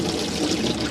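Brief, steady gush of water running from the sink tap in an Elddis Encore 255 caravan, a close, loud, continuous flow lasting under a second.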